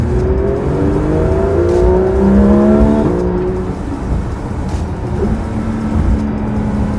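A Porsche 991.2 GT3 RS engine revs hard and climbs, then drops through quick downshifts with crisp blips, loud and close, with no talking.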